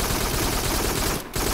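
Sustained rapid automatic gunfire from a weapon in the VR shooter Farpoint, loud and continuous, with a brief dip in the barrage before it resumes at full intensity.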